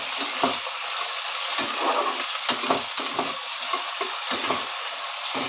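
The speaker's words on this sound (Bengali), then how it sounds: "এবার ভালো করে আলুগুলোকে ভেজে নেব।" Diced potatoes frying in a pan, a steady sizzle running throughout with repeated stirring scrapes at an irregular rhythm, close and fairly loud with no talking.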